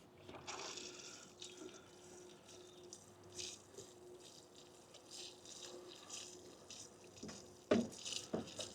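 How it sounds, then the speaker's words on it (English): Water poured from a container onto soil around a newly planted peach tree in a large pot, a soft continuous trickle and splash with a few louder drips near the end. "A little splash of water."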